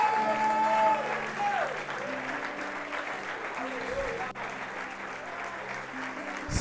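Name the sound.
congregation applauding in church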